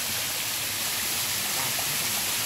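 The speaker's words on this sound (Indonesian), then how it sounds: "Tuh air terjun itu" A small waterfall spills out from rock, giving a steady, close, broadband rush of flowing water that holds level throughout with no voices over it.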